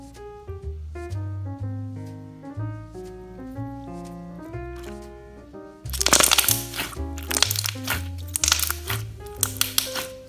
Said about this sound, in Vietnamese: Chính cái sự đặc này đã làm cho khi chúng ta tạo bong bóng á, thì tiếng kêu siêu đã tai.